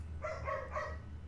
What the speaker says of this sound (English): Woo, dog's barking.